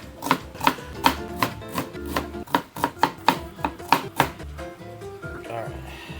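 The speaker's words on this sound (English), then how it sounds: "I need to finely chop half an onion" Half an onion is finely chopped on a board: a quick, regular run of about a dozen crisp knife strikes, close and distinct, before the chopping stops and only quieter kitchen sounds remain.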